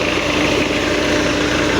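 A Massey 240 tractor engine runs at steady speed, driving a water pump through its PTO, a loud close-up drone with a low rumble and a constant hum.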